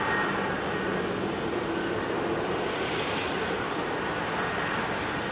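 An airliner accelerating on its takeoff roll at London Heathrow, a loud, steady broadband roar of engines that holds constant throughout, close and alone.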